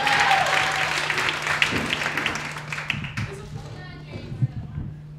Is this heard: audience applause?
yes